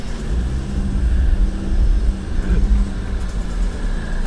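An AWD car, either a 2015 Audi Allroad or an Infiniti QX60, revs while stuck on a steep snowy slope, its engine a loud, steady low rumble that swells as the wheels claw for grip.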